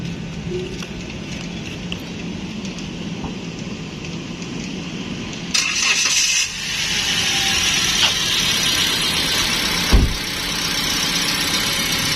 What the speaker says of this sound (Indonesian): Selanjutnya kita akan coba hidupin mesin mobil ini.